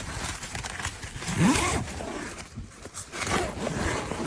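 A hiking backpack's dual zipper drawn open with a few rasping pulls, close by and moderately loud, among rustling fabric.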